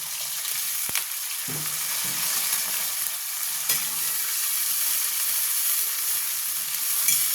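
Ginger and green chilli paste sizzles and fries steadily in a pan, a dense close hiss with occasional stirring scrapes and clicks, with no voice over it.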